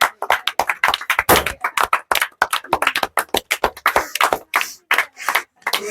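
Spectators at a balloon-bursting contest clap in sharp, uneven bursts, a close series of loud hand claps with short gaps between them and no talking.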